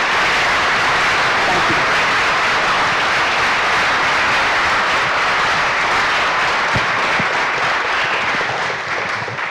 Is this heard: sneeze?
no